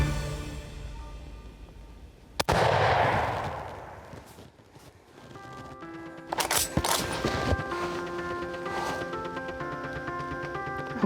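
A single sharp, loud rifle shot fired at a whitetail deer on a hunt, cracking out and rolling away in a long echoing tail, followed by quieter rustling and field noise.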